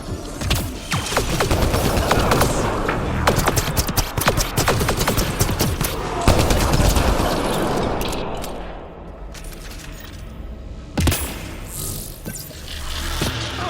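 Turret gunfire in Mass Effect Andromeda rattles in rapid bursts of sharp, loud shots with clanking mechanical noise between them, fading to quieter ambience in the middle before a final burst.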